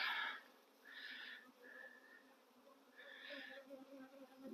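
Honeybees buzz around a nuc hive in faint, wavering hums that swell and fade in short pulses, with quiet background noise and no talking.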